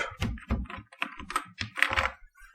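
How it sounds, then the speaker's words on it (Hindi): Close, crisp keystrokes typed on a laptop keyboard while entering data into an Excel spreadsheet, an irregular run of clicks and thuds with no voices. "इसी तरह अब कोई और आइटम यहाँ पे टाइप कर लेते हैं"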